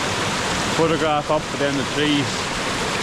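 A small waterfall and river in Scotland pour in a constant broadband rush of flowing water, with someone talking briefly over it.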